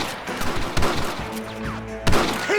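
Gunfire in the Red Dead Redemption video game, with scattered broadband shots and a couple of louder bursts amid a busy battle mix of music and effects.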